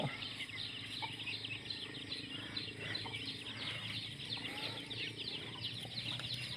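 Small chickens cluck and peep continuously around a rural spot at dusk, a steady chorus of fowl calls filling the background with no talk.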